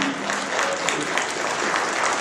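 A crowd at a San Leandro mayoral candidates forum breaks into dense, steady applause that continues without letting up for a couple of seconds.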